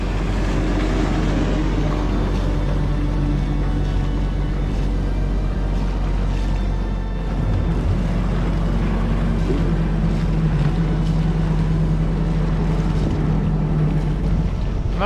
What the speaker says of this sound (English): Yeah, a lot of boats. A lot of jet skis.